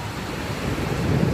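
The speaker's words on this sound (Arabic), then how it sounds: "وجالنا جه بقى رعد اهو، وجه مطر شديد ما شاء الله" Heavy rain falls in Riyadh as a dense, loud, continuous broadband wash that swells slightly toward the end, with no distinct thunderclap.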